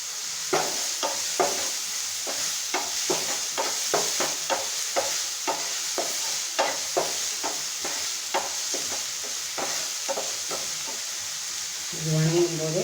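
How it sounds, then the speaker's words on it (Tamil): Onions sauté in a hot pan for a cauliflower Manchurian starter, a constant sizzle broken by repeated scraping strokes of a spoon stirring them in an uneven, steady rhythm. "வெங்காயம் நல்லா வதங்கணும்"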